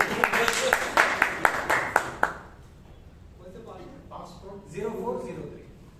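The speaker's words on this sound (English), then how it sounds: "Yeah, clap." Participants at a Toastmasters club meeting clapping in a short burst of about eight sharp claps, followed by people talking.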